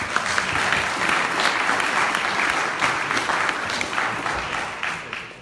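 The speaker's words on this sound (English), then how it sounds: "let's give them one more round of applause." A crowd at a startup pitch competition gives a sustained round of applause for the competitors, a thick, even roar of many hands clapping that fades slightly toward the end.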